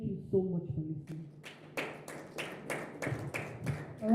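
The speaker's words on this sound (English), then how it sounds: "A round of applause." A small audience at a women's empowerment panel event giving sparse applause, a handful of distinct claps in uneven rhythm, fairly faint and near, following a brief voice.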